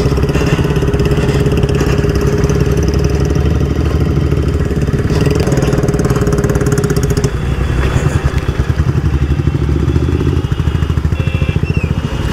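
A motorcycle engine runs loud and close on a hot road trip from Durgapur toward Siliguri, a steady, continuous drone through the whole stretch, with no one talking.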